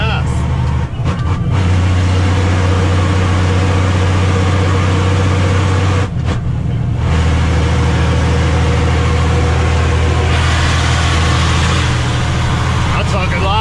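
A truck with a broken part underneath runs with a loud, heavy engine roar and rattling drone, steady and close, briefly dipping twice, with someone talking over it.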